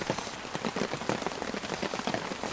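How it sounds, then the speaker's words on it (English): Heavy rain pours steadily on a campsite up on a high ridge, a dense close patter of drops hitting surfaces that keeps going without a break. "But the rain is still coming in pretty steady."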